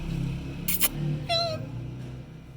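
A parrot imitates a cat's meow, giving a short, rising-then-falling meow-like call over a faint background hum, preceded by a brief sharp noise burst.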